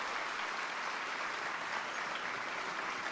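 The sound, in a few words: crowd reacting to a draft pick in an NFL video game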